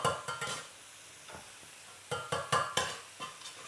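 Carrots sizzling in a hot pan with miso glaze over high heat, a steady fry under repeated sharp stirring and tossing bursts, close and fairly quiet.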